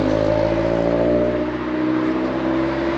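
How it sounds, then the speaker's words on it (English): A car with a loud exhaust passes by a 1930s segregated cycle route in Nottingham, its engine droning steadily and close for the whole stretch, with no talking. "you give me a nice little loudy, chavvy exhaust note"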